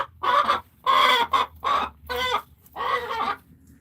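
A Light Brahma hen clucks close by in a series of loud, bursting calls, several distinct squawky phrases separated by short quiet gaps, with no talk over them.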